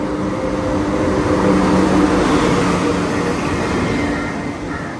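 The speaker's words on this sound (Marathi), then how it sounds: "ही बघा गाडी आली." A train pulls into a railway station on a pilgrimage trip to Tuljapur, a loud, steady rumble of wheels and engine filling the scene for several seconds before easing off slightly at the end.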